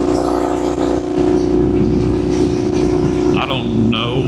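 A 2019 Indian FTR 1200S V-twin motorcycle cruising at about 60 mph in sixth gear near 3,700 RPM gives a steady, loud engine drone with wind rush, while a rider talks over it.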